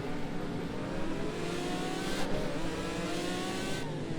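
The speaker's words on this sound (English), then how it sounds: "we're driving the McLaren F1 GTR Longtail here at Sugo" The McLaren F1 GTR Longtail GT1 race car in Project CARS 2 at Sugo, its engine revving hard and steady with shifting pitch for the whole stretch, loud and close, with no talk.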